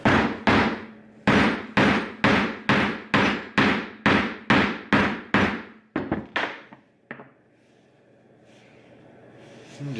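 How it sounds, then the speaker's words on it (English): A hammer strikes a wooden chisel handle, driving it on, in a quick, even run of about a dozen sharp knocks, pauses, then lands a few slower final blows before quiet. "you want to pound this handle in. So I'm just using this hammer right here."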